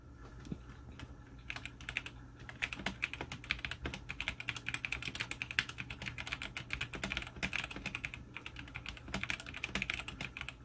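A modded Tecware Phantom 104 mechanical keyboard is typed on continuously, a quick, even clatter of keystrokes close up that runs for about ten seconds with no voices.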